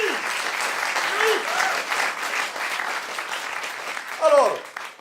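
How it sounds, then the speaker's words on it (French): An audience at a comedy-music show applauds steadily, with voices speaking and exclaiming over the clapping, one louder vocal burst near the end. "On peut applaudir, bien sûr."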